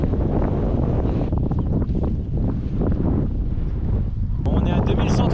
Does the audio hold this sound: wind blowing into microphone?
yes